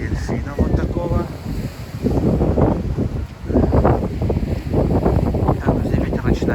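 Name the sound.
wind on an open microphone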